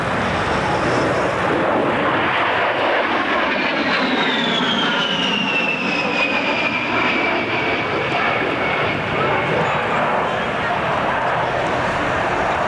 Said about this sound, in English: The A-10 has an incredibly small turning radius